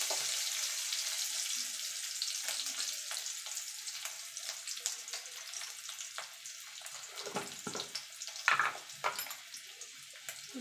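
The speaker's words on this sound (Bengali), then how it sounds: "তেলটা গরম হয়ে গেছে, দিয়ে দেব কাঁচা লঙ্কা। কাঁচা লঙ্কাটা একটু নাড়াচাড়া করে নেব।" Green chillies frying in hot oil in a kitchen, a soft, continuous hiss and crackle with occasional sharper pops and stirring scrapes, quiet and close with no talking.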